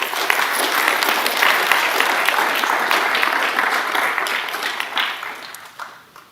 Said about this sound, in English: So just want to give them an applause.